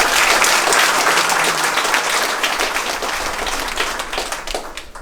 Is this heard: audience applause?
yes